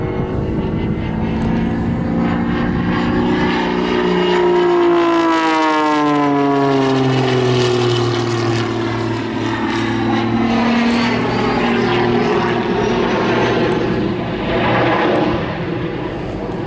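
A Jet Pitts aerobatic biplane performs at an airshow, its jet engine roaring loud and sustained with a sweeping rise and fall in pitch as it manoeuvres overhead.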